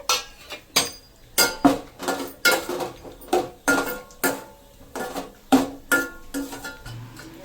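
Cashews being fried in a pan while stirred with a utensil for a Rayalaseema wedding-style payasam, giving a steady series of close, clinking scrapes against the metal pan at a brisk rhythm.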